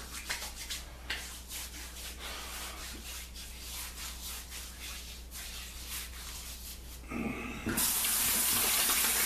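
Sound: splashing bloom water onto face at sink

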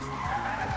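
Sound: car skidding in Roblox video game

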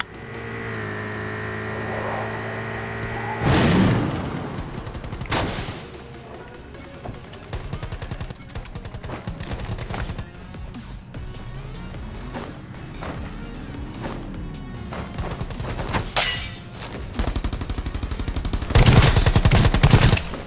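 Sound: P90 submachine gun gunfire in a video game

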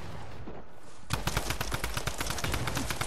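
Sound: gunfire in a video game

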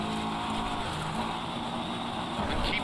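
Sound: rally car engine in video game Dirt Rally 2.0

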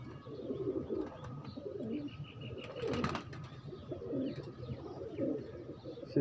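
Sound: Teddy pigeons cooing

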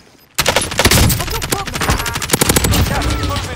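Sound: machine gun fire in the video game Call of Duty Warzone

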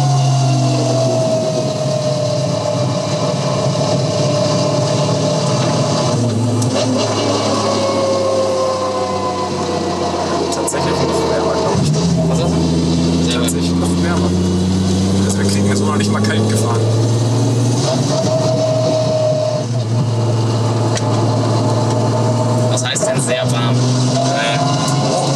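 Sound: 1000 hp VR6 engine car revving on a racetrack

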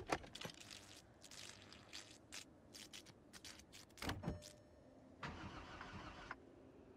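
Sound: car engine cranking after hotwiring, Project Zomboid video game

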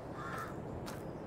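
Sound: different bird calling from a shed, video game map

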